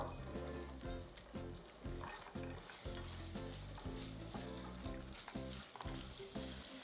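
Gochujang with garlic and chopped walnuts sizzles and fries in a pan, with a steady crackle, rhythmic stirring taps, and bubbling throughout at close range.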